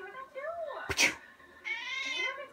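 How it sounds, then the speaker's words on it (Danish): A black cat meows twice, close and clear, with a drawn-out rising call at the start and another at the end, and a brief noisy rustle between them. "Hvad laver katten?"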